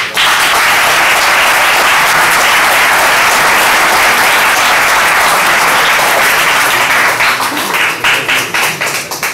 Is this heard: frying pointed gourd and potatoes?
no